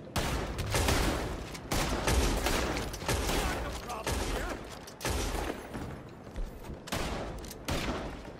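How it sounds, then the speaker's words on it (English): Sustained heavy gunfire in Red Dead Redemption 2 as a group of players open up together, dense overlapping rifle and gun volleys that roar continuously for several seconds with brief dips between bursts. "We're about to gun the fuck out of him."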